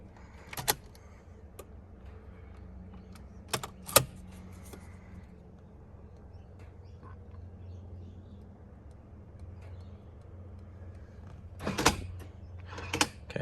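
BMW E39 M5 car doors shutting with a few sharp thuds spaced apart, plus small clicks as the key fob is pressed, quiet and close inside a garage with a low steady hum between.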